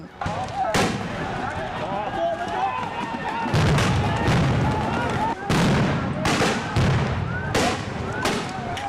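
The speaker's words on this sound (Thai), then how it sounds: "เจ้าหน้าที่ตำรวจ ระดมยิงระเบิดแก๊สน้ำตาเข้าใส่ประชาชนอีกรอบอย่างบ้าคลั่ง" A series of loud, sharp bangs from tear gas grenades fired by police into a crowd, several in quick succession, over a continuous roar of crowd noise and commotion.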